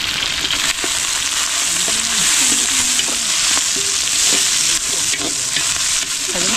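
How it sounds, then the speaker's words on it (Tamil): Onions fry in a hot pan for chicken biryani, hissing loudly and steadily. A utensil stirs them now and then, scraping against the pan. "இப்போ பார்த்தீங்கன்னா வெங்காயம் வந்து நல்லா வதங்கிருச்சு"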